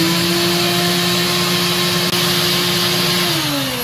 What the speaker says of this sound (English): So we got the shop vac that we're going to put on this side. I'm actually going to connect it to this end. We're going to turn it on.